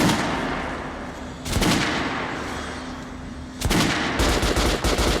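Rapid automatic gunfire at training dummies in Metro: Last Light Redux, with loud close bursts around the middle and a longer rattling burst near the end, over a low droning room tone.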